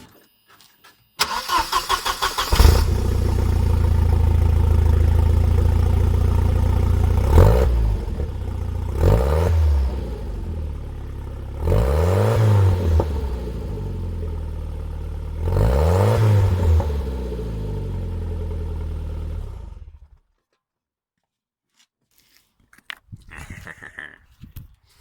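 A Volvo 940 with the muffler removed and only the catalytic converter fitted starts up loudly and idles with a raw, rough note, then revs hard four times in rising and falling sweeps before shutting off into near silence.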